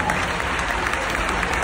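A crowd at a religious testimony gathering in Phoenix breaks into brief, dense, steady clapping, loud and close, filling the short moment.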